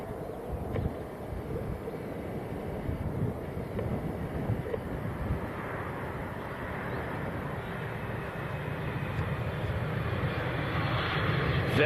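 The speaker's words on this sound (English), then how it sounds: "Nice to see a tri-jet." A tri-jet airliner flies in to Manchester Airport, its engines a broad, steady roar that slowly grows louder as it approaches, with some wind buffeting and no voices.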